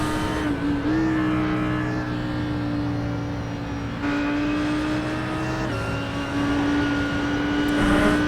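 A GT3 race car in the iRacing simulator, heard from the cockpit at Mosport, holds a steady engine drone that rises and falls with shifts and throttle changes through corners, loud and continuous with no talk.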